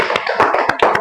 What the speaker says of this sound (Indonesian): tepuk tangan kepada Saudara Ratna